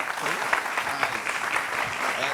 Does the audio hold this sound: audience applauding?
yes